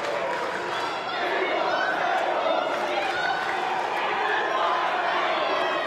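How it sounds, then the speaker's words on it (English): Wrestling crowd at a live show in Adelaide, a continuous roar of cheering and murmuring fans filling the arena, with commentators talking over it. "You can hear the crowd here in Adelaide"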